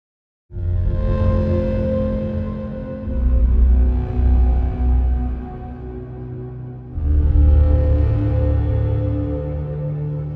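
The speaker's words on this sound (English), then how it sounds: "Sombra Steel giving us this really big kind of metallic sound." Dark, heavy horror-score synth layers, including the Sombra Steel patch, drone and swell with a metallic, sinister edge, deep bass underneath and brighter harmonic tones shifting in two broad waves.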